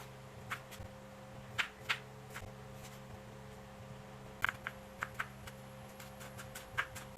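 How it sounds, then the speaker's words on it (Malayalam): A knife chops ginger into small pieces on a cutting board, giving scattered sharp taps, some single and some in quick clusters, faint and close in a quiet kitchen with a low steady hum underneath. "ഒരു കഷ്ണം ഇഞ്ചി കൂടി ചെറിയ കഷ്ണങ്ങളായിട്ട് അരിഞ്ഞെടുക്കാം"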